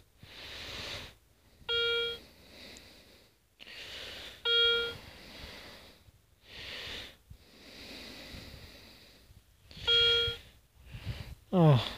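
During a metal detector ground test comparing a Solfernus v2.6 and a Garrett Euro Ace, three short tonal signal beeps sound at intervals between stretches of soft hiss and brief noisy bursts.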